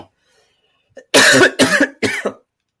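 A person coughs three times in quick succession, each burst harsh and close, after a brief faint throat sound and then silence.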